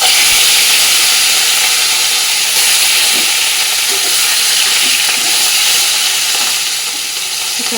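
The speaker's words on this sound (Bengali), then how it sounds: "তেল কিন্তু গরম হয়ে গেছে এবার রুই মাছগুলো এক এক করে ভেজে নেবো" Pieces of rohu fish frying in hot oil, a loud, steady, dense sizzle and hiss throughout, close up, with faint bubbling pops underneath and no talk.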